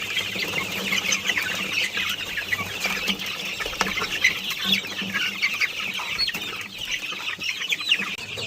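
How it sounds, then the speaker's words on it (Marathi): Grown poultry chicks in a farm shed being moved to another shed, with dense, continuous clucking and chattering from many birds close by, plus occasional wing flaps throughout. "आता हे जे पिल्ले आहेत तर हे आता मोठे झाले"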